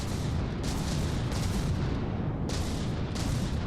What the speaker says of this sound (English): the rear guns, the aft artillery is up and running too